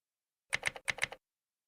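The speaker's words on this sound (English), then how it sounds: "click on empty and type in permanently delete." Computer keyboard keys clatter in two quick bursts of rapid typing with a short gap between them, close and clear in an otherwise silent room.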